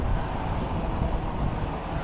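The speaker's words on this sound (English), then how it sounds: "But the wind is killing me." Steady wind roars across the microphone at a flatbed truck, a dense low rumble with constant buffeting and no voices.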